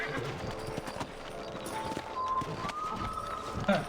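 Horse hooves clip-clop steadily in the Red Dead Redemption western video game, mixed with game music and ambience, with a short whinny-like sound near the end.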